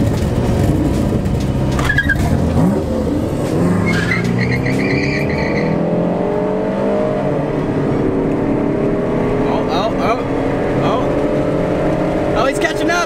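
Car struggling during a street race, its engine droning and revving with rising and falling pitch, plus occasional tire noise, loud and continuous with voices talking over it.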